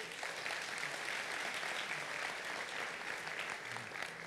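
A church congregation applauds steadily, a dense wash of clapping that holds at an even level throughout without any speech over it.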